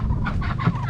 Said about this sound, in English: so that's why they're quacking really loud right now